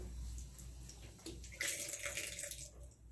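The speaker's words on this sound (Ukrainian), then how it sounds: "Тільки під крану так не сильно, от трошечки зволожили" Water runs briefly from a tap onto a piece of coat fabric, a quiet trickle that swells into a louder splashing stream near the end, heard close up with no talk.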